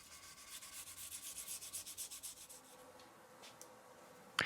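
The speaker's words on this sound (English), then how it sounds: "Once I've finished with the level sanding" Dry sanding of a guitar's clear coat by hand, a steady rhythmic scratchy rubbing in repeated strokes, close and fairly quiet, easing off before a brief sharp scrape at the end.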